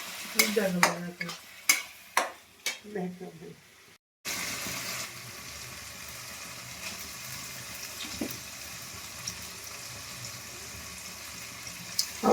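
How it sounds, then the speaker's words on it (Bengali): A spoon clatters and scrapes through chili, turmeric, salt and sugar frying in a pan, giving a few sharp knocks. A steady sizzle with faint background noise follows. "লঙ্কা, হলুদ, নুন, চিনি সবকিছু দিয়ে এবার নাড়া দিচ্ছি"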